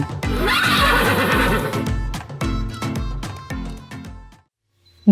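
A horse sound effect for a children's story: one loud, close whinny, then rhythmic clip-clopping hooves that fade to silence before a sharp burst at the very end.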